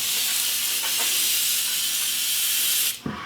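A steady, close hiss of spray soaking down an old K&T coolant pump caked in goo, running loud and unbroken for about three seconds before cutting off abruptly with a small clunk.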